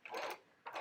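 A sewing machine stitches elastic onto a homemade fabric mask in two short bursts, a longer run and then a brief second one, close and fairly quiet.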